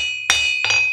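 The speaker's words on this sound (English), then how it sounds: "Bring it to the anvil, give it a quick tap" A hammer strikes a hot iron hook twice on an anvil during blacksmithing, giving two sharp metallic taps with bright ringing overtones, close and clear.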